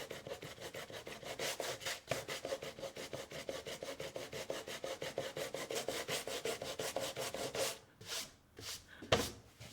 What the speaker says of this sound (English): so we've got it all sanded now.